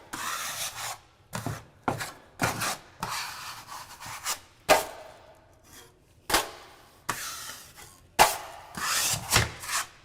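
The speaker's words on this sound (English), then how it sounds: "Again, we start from the middle, just kind of wipe the tape." A taping knife wipes drywall tape flat across a ceiling in a series of rasping, scraping strokes, repeated in a steady rhythm up close with short pauses between passes.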